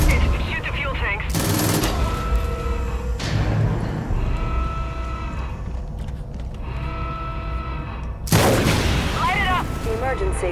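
Gunfire and explosions from the Far Cry 5 video game as fuel tanks are shot, loud booming blasts with rattling automatic fire and mechanical game sounds, dense and continuous, with voices speaking over it.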